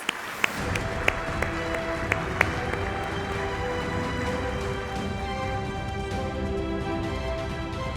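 An audience at a congress opening applauds as the federation chairman takes the stage, a steady patter of clapping with a few sharper claps early, under faint background music.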